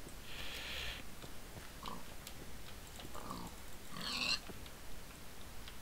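A pig in a survival video game gives a few short, soft grunts and oinks spread over a quiet ambient background.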